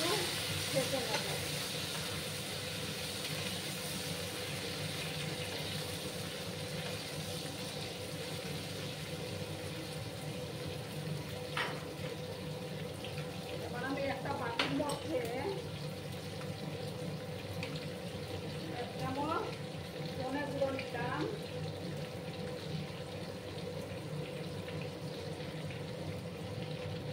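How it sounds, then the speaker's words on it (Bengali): Raw green bananas fry in a pan, giving a continuous bright sizzle and hiss with a few stirring scrapes and bursts of spitting, steady and close throughout. "এবার আমি কাঁচা কলাগুলো দিয়ে দিলাম। ভালো করে একটু ভেজে নেব।"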